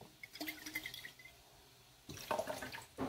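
A small bottle is rinsed under running tap water in a home kitchen, giving soft splashing and trickling in two bursts with a quiet gap between them. The sound is faint and close.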